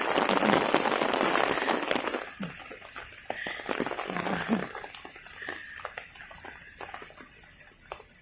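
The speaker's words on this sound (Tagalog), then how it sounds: "Ulan na. Nabutan ng ulan." Rain patters steadily on a surface in a park, heavier at first and then easing into scattered drips and taps.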